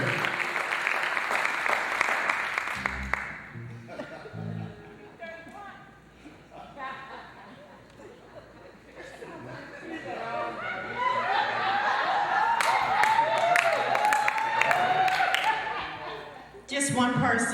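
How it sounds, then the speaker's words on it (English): A church congregation breaks into clapping that swells and holds for several seconds, with voices and murmuring underneath, after a stretch of quieter talk and movement. "give God a hand clap of praise"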